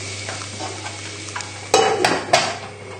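Food for a goat's cheese tart caramelising in a hot pan gives a steady soft sizzle, broken by a few sharp clatters of stirring against the pan near the end.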